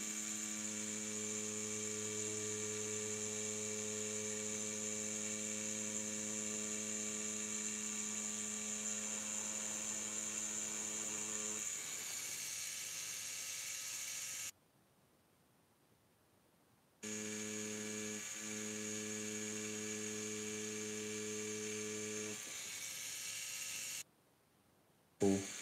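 Tattoo machine lining on Reel Skin fake practice skin: a steady, close electric buzz with a strong hum, running continuously and stopping twice for brief silent pauses before starting again.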